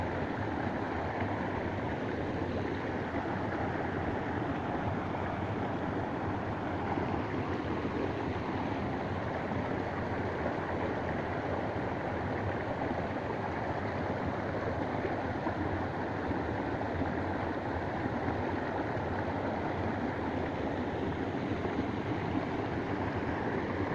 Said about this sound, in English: All this beautiful fresh water coming out of the ground,